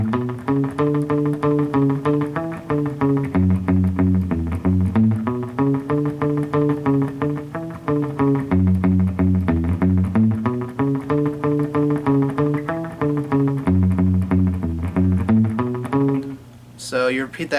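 Electric guitar riff from a song played in steady eighth notes that double the bass line, a dense repeating pattern with no talking, ending in a brief noisy burst.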